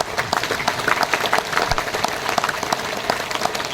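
Seminar audience in Ahmedabad clapping together in a dense, continuous round of applause, loud and close with no talking.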